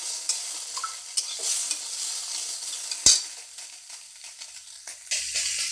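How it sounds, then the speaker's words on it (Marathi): Coriander seed, coconut, green chili, onion and garlic roast in oil in a wok, producing a close, continuous sizzle with scraping stirs and one sharp clank partway through, and no talking. "त्या तेलाच्या कढईमध्ये याला आता छान भाजून घ्यायचं"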